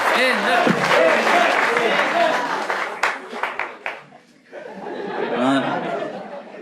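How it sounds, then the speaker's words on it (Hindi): Audience applause and laughter in an escape room show, with clapping mixed into chatter and chuckles, fading midway into sparse sharp claps before voices and laughter rise again. "एंजल को लाया जाए और एंजल को भेजा जाए, और फिर उसके लिए ताली बजाइए, उसने शक्ल रिवील करी है।"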